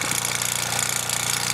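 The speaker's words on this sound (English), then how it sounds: "the Kleinemeier models is actually among the toy steam engines that need a little bit of running in" A Kleinemeier toy steam engine with an overhead flywheel runs during running-in, giving a loud, dense, rapid rattling chug that continues evenly without pause and with no voices.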